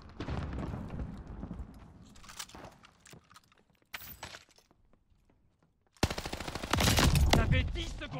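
Enemy gunfire in Call of Duty Warzone rattles toward the player in close bursts, with a heavy automatic spray opening the clip, sharp isolated shots in between, and a loud sustained barrage at the end.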